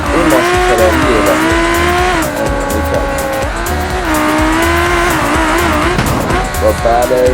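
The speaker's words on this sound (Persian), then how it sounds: "این ماشین فراریه" Ferrari racing in a video game, its engine droning loud and steady throughout with tonal revving that rises and falls, tires squealing and skidding under a background voice.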